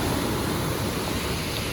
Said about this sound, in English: because that's about a 10 or 12 foot waterfall.